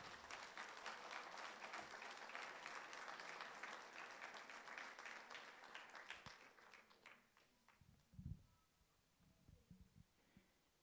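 A church congregation gives sustained, fairly faint applause that holds steady for several seconds, then thins out into a few scattered claps and knocks.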